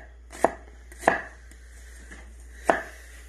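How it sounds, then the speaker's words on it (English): A knife chops through an onion on a cutting board in three crisp, separate knocks, evenly spaced with a longer pause before the last, close and clear against a quiet background. "we're making cuts counterclockwise all the way up around the onion"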